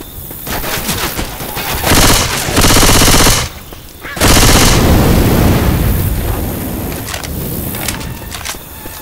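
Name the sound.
automatic rifle gunfire in video game Left 4 Dead 2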